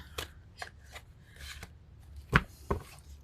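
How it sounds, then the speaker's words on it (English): Angel Tarot cards being shuffled by hand, giving soft rustling riffles and a few sharper slapping snaps, fairly close and heard alone without talk. "shuffle them like this until one wants to come out."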